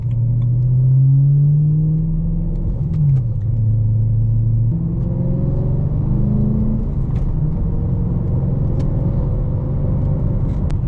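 A BMW E92 M3 is driven on the road, its engine droning steadily from inside the cabin under constant road rumble, with the pitch sliding as it shifts and pulls through the gears.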